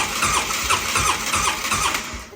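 A 2010 Polaris Ranger 800 XP engine cranks without catching, a steady rhythmic churn of starter pulses running continuously at moderate loudness with no voices.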